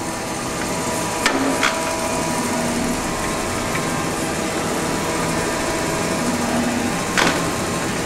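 A Gould & Eberhardt Model 14 plain tool room horizontal shaper running, with a steady mechanical drone and two sharp knocks, one early and one near the end, as the ram moves back and forth.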